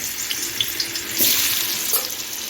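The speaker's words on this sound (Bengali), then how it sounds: "আলুটা আমি লাল করে ভেজে নেব" Salted, turmeric-coated potatoes fry in white oil in a wok, a close, bright sizzle with a few soft stir bumps over a couple of seconds; no one speaks.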